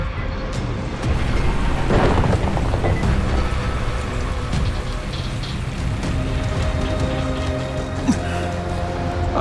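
Rain and thunder in the Dying Light video game, a steady wash of heavy rainfall with a deep rumble of thunder building early and lingering, loud and continuous throughout.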